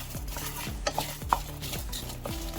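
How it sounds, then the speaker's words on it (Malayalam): Red chillies dry-roasted in a hot pan without oil, heard as soft repeated scraping and stirring strokes with light metallic clinks, close and fairly quiet. "പാൻ നന്നായി ചൂടായിട്ടുണ്ട് അതിലേക്ക് നമുക്ക് മുളക് വറുത്തെടുക്കാം"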